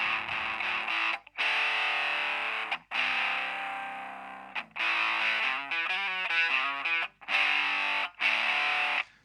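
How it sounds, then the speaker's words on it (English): Distorted electric guitar played through a single effects pedal at quiet home volume, heard alone in sustained strummed chords with short gaps between them, hum underneath. "if you wanted a distorted guitar sound at home at a quiet volume with a single pedal"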